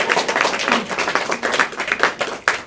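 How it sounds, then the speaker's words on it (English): Many hands clap together in a poetry-show crowd, a dense irregular patter that swells and dips over a few seconds, close and fairly loud with little talk. "Keep on clapping."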